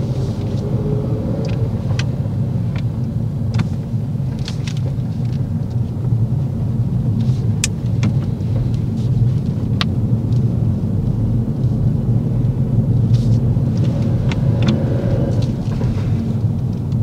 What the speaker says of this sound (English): She then goes back into gear 1, which slows our vehicle down.